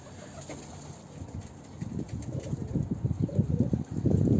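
Breeding pigeons and their young outside the coop give repeated soft, rhythmic cooing that grows louder and busier toward the end, heard close against a faint steady background hiss.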